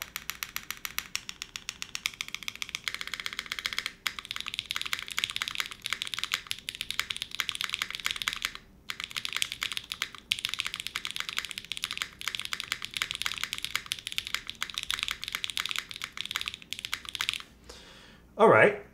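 Typing on a Krush mechanical keyboard, rapid close clacky keystrokes in bursts with short pauses, ending with a brief louder sound.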